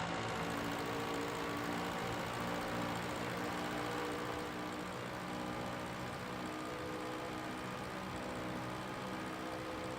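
A 1936 Delage 15S8 racing car's engine in a racing video game holds a steady, loud, continuous drone for the whole stretch, with no voices over it.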